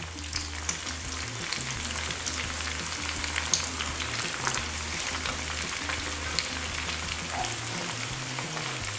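Cheese-filled rice balls fry in hot oil in a pan, giving a steady, dense close-up sizzle with fine crackling pops that continues evenly with no speech.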